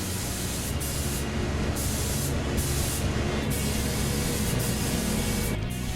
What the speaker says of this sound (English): Then it's ready for the ceramic coating to be applied using a special spray gun application.